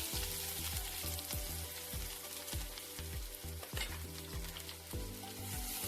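Onion sizzles loudly and steadily in a pan of hot oil for mushroom fried rice, with repeated stirring knocks throughout and a soft tonal background.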